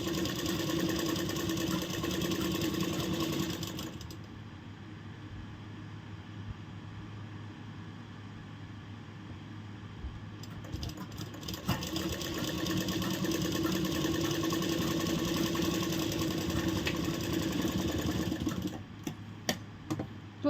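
Electric sewing machine running steadily while stitching a princess-cut blouse, a continuous mechanical hum with rapid needle ticking, pausing briefly midway before resuming, close and fairly loud with no talking.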